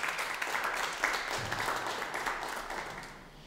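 Audience applause at a German-language conference talk on digital skills, a steady broadband patter of many hands clapping, moderately loud and gradually thinning toward the end.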